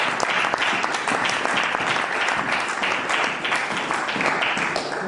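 A church congregation applauds, dense sustained clapping from a large crowd, loud and continuous throughout without a break.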